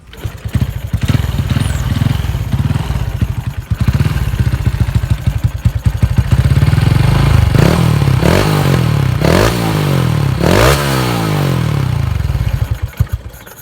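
A Honda 110i motorcycle with no electric starter is kick-started and revved, the engine chugging loudly up close, then rising and falling through several throttle blips before settling back to idle.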